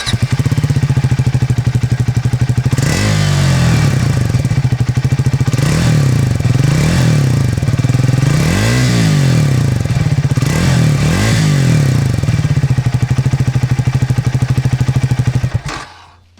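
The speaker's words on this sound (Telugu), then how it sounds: "ఈ బైక్ ఎగ్జాస్ట్ నోట్ ఎలా ఉంటుందో ఒకసారి చూద్దాం మనం" A Triumph Speed 400 roadster's exhaust note starts with a loud, close, thumping idle, then comes a series of rising and falling revs in repeated blips before the engine cuts off at the end.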